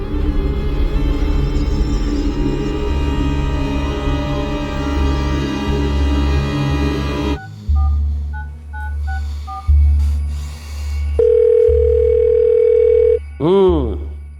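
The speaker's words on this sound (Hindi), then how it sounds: "जसवंत गट्टा जी हमारा फोन न उठा रहे हैं।" An unanswered telephone call gives ringing and dial-style tones in short repeated beeps and a longer steady tone, following a noisy, rumbling opening stretch.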